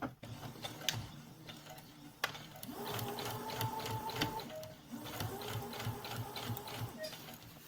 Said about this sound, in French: Après, on fait la surpiqûre.